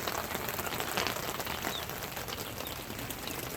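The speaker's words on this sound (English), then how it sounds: "I'll take any time we get rain." Steady rain patters on a backyard chicken coop sheltering seven-week-old chicks during a storm, a dense, even hiss of drops close by with no voices.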